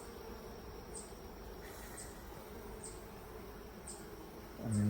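Honeybees in a queen castle hive drone in a dense, continuous buzz close by, with a few individual bees whining past, and no voices.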